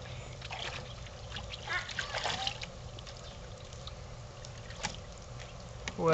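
Light splashing and trickling water close by as a child splashes in a backyard pool, small intermittent splashes with a faint voice in the background.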